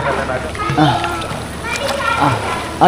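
A child swims and splashes in water outdoors in the rain, with repeated sloshing splashes, close and fairly loud, as an adult talks over them.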